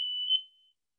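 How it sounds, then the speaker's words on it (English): One short, high electronic beep from a smoke alarm, a single clear tone that cuts off and fades within a second. "Well, smoke alarm."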